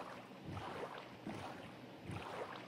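A birch boat rows across water in Minecraft, with three rhythmic whooshing paddle strokes splashing at even intervals, fairly soft and without talk.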